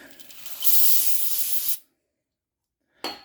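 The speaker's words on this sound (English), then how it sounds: "Clean it up a little bit. Brake clean." Aerosol brake cleaner sprayed onto the front brakes of a 2007 Ford Focus: a loud, steady hiss lasting over a second, then silence before a brief second burst.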